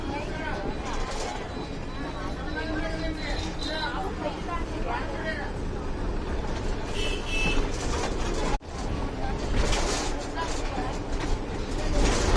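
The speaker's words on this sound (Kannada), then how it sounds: "ರೈಲ್ವೆ ಸ್ಟೇಷನ್ ನೋಡಿ ಹಳೆ ಬಾಗಲಕೋಟೆ ಒಳಗೆ" Busy railway station ambience in Old Bagalkot, with a steady wash of crowd chatter, shuffling and distant vehicle or train rumble that continues throughout, briefly cut by a short gap.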